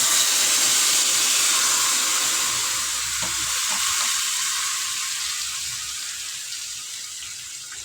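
Tamarind water poured into a hot pan for tamarind rice sets off a broad, steady sizzle and hiss that holds loud, with a brief splashing pour near the middle, then eases slightly as it settles.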